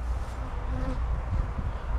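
Dense, steady buzzing of many honey bees close by around a hive on a hot day, a continuous droning hum with no voices.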